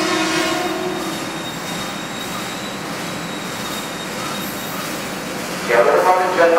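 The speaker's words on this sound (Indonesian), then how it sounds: "Kereta api Jayabaya diberangkatkan kembali dari stasiun Bekasi ya." The Jayabaya passenger train departs Bekasi station in Indonesia with a steady, loud rumble of wheels on rail and a brief squeal near the end.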